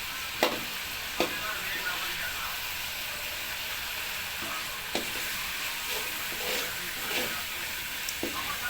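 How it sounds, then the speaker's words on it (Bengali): Tomato and spice masala with a splash of water sautés in a pan for an egg and potato curry, a steady sizzle and hiss under occasional spatula scrapes, close and moderately loud. "ভালো করে কষে নিয়ে যাচ্ছে।"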